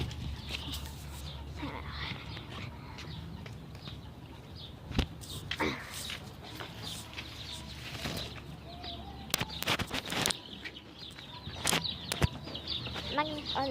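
Chickens cluck softly among scattered sharp wing flaps and scuffles at feeding time, close by and irregular, over a steady low background.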